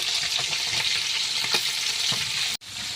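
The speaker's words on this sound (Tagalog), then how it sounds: "habang tayo nagpiprito ng isda yan" Fish frying in oil in a pan, cooked out at sea, gives a steady close hiss and crackle with faint stirring scrapes, then a brief dropout before the sizzle resumes.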